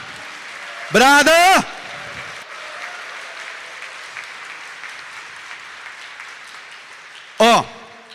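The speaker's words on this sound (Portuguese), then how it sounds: "Dê uma salva de palmas para ele." A church congregation claps through a homily in a steady wash of applause, broken at the start and end by loud shouted voices.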